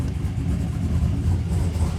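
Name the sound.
6.2 engine idling after starting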